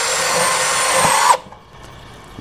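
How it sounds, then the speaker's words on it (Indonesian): A compact cordless drill in drilling mode whines loudly and steadily while boring into light steel, then cuts off abruptly, leaving near silence. "Ini saya pakai mode drilling aja"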